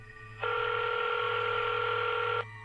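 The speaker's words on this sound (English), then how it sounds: "I picked up the phone and dialed 911." A telephone keypad dialing 911, heard as one sustained electronic tone lasting about two seconds that starts and stops abruptly over a low background hum.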